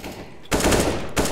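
Rapid gunfire from a video game match, two loud bursts of automatic shots, the first starting about a third of the way in and a second near the end, with quieter game sounds before.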